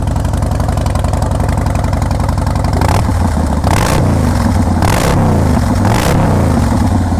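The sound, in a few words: 2016 Harley Davidson Breakout motorcycle revving, stage 1 Bassini exhaust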